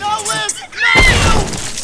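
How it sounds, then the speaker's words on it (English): Icy shattering burst from a freeze gun breaking children in Ice Scream 8, a sudden loud crash after a shouting voice, trailing into a scattered rumble. "I'm going to break you into a thousand little pieces with this little freeze gun here!"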